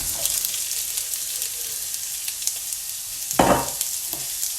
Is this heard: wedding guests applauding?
no